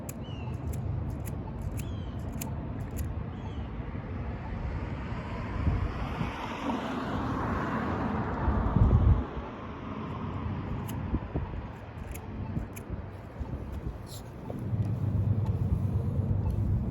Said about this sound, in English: Too windy, Salah.